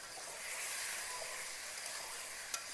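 Ridge gourd, potato and tomato being stirred in a frying pan give a steady close sizzle with soft scraping, with no talking.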